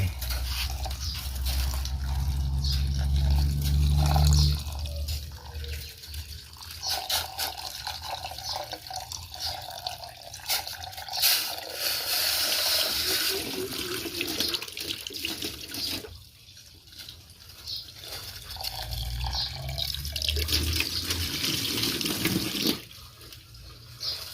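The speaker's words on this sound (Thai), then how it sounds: "พอแล้วน้ำที่เดือดออก เสร็จแล้วน็อกน้ำเย็นเลย" Water pours and drains from a pot of blanched vegetables, then a cold tap runs steadily over them in a sink, a close, continuous splashing rush.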